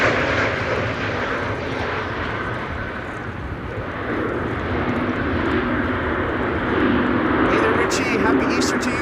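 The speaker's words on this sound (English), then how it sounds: "This is a jet arriving from Istanbul, Turkey. An A321neo." An Airbus A321neo jet arriving from Istanbul at windy Amsterdam Schiphol gives a steady, broad engine roar that holds loud throughout and swells slightly toward the end, with voices talking underneath and gusty wind noise.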